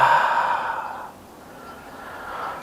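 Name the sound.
big exhale out the mouth during yoga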